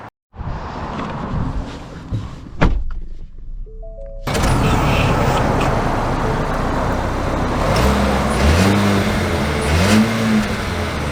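A 2024 Ford Edge Titanium starts up after a brief, quiet cabin interval with a few clicks, then its engine settles into a loud, steady hum with rising revs as it pulls away, heard from inside.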